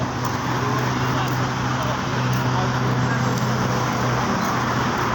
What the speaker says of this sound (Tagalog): See the traffic?